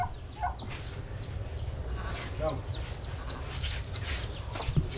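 Chickens and ducks cluck and chirp repeatedly at close range on a farm over a steady low background rumble, with a few sharper squawks scattered throughout.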